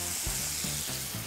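Rosemary sprigs sizzling in a hot frying pan, a bright continuous hiss with soft crackles over a low hum, heard up close.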